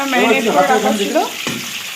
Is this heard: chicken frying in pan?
yes